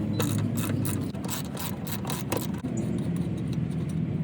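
A hand ratchet loosens a 16mm bolt on the rear shock absorber mount of a Volkswagen Jetta, giving steady close clicking with a scraping mechanical edge throughout.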